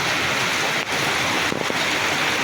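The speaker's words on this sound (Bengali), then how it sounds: "বৃষ্টি তো খালি ঝরতেই আছে" Steady rain falls in a dense, even hiss with no voices, sounding close and continuous throughout.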